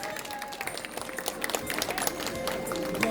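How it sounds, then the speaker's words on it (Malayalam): An audience at a church Onam cultural evening applauds the Kothannur Chundan performers and organisers, with a dense, steady crowd clapping that holds throughout. "കാണിച്ച കൊത്തന്നൂർ ചുണ്ടനെയും അതിന്റെ സംഘാടകർക്കും വലിയൊരു കൈയടി ഒന്നുകൂടെ കൊടുക്കാം."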